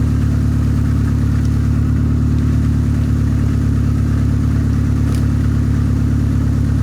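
A car engine idles steadily and loudly after being jump-started to recharge a dead battery, a constant low rumble with no talk.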